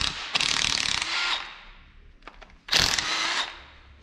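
A half-inch ratchet loosens engine head bolts during an engine teardown, giving rapid ratcheting clicks in two close, loud bursts separated by a short pause with a few scattered metallic ticks.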